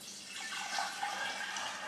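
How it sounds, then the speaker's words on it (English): Simple sugar syrup pours into homemade amaro liqueur, a soft steady liquid trickle with faint splashing, quiet and close, with no voices. "let's take our simple syrup, or sugar syrup, and let's get it poured"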